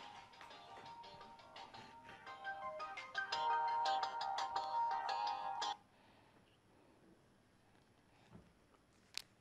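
A mobile phone ringtone plays as a bright, repeating melodic tone for several seconds, fairly loud and close, then cuts off abruptly, leaving a quiet room with a few faint taps.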